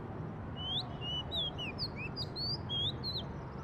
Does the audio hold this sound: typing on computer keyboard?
no